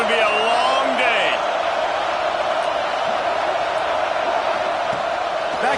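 A stadium crowd roars steadily in the NCAA College Football 26 video game, a broad wash of noise for a USC home game, with a commentator talking over it throughout.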